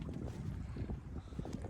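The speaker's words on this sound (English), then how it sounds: "Tide changed, and I got some wind." Wind rushing past a sailboat on open water, a steady low gusty roar buffeting the microphone, with no voices.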